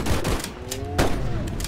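Rapid gunfire aimed at Bigfoot in a video game, several loud dense shots in quick succession with brief gaps, steady and close throughout.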